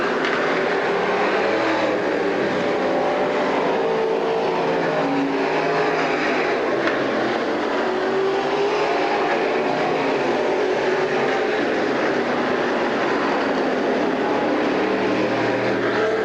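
Street stock race cars race at Silver Spring Speedway, a dense, continuous roar of engines heard from a distance, steady and unbroken for the full stretch.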